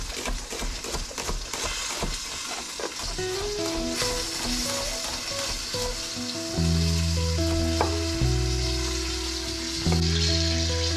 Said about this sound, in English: It's always tricky to brown the ends on this, so I'm kind of leaning it up against the side in order to get some browning on the end.